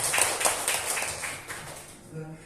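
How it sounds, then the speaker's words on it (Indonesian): A classroom group of adults claps hands in a short burst of brisk clapping that fades out within a couple of seconds, with a voice talking over it. "Oke, tepuk tangan untuk kita semua"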